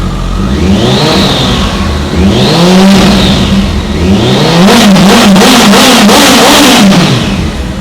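Kawasaki ZX14R motorcycle engine, a modified bike with about 28,000 km, revving loud and close in repeated rising and falling surges, with a harsher burst of throttle near the end.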